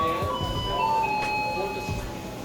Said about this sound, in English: The nice soothing sounds of the garbage truck in the background.